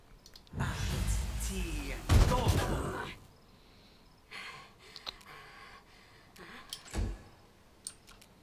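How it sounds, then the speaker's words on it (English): A magic missile spell is cast in the video game Pathfinder: Wrath of the Righteous, with two loud whooshing energy bursts in the first three seconds, followed by softer scattered combat hits and clicks. "Do we go for the spells? Just magic missile always hits."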